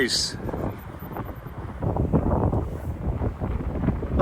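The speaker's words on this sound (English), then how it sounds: "I've got to turn away from the wind." Wind buffets the microphone on a northeast coast, a loud continuous rumbling gust that surges through the whole clip while someone talks over it.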